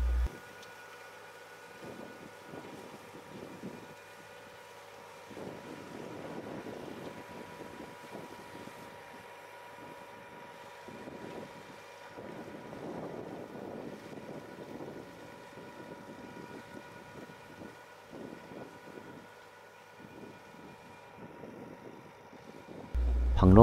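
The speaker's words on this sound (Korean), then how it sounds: "트랙터로 스레질을 합니다." A tractor harrows a flooded rice paddy below a reservoir ahead of rice planting, a steady low engine drone with sloshing and wind noise on the microphone, heard at a moderate distance with no talk.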